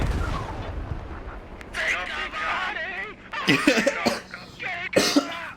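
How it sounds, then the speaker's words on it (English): Artillery fire in the tactical shooter Squad, with deep booming impacts that land partway through and then again near the end, under steady talk from a voice. "Enemy artillery incoming!"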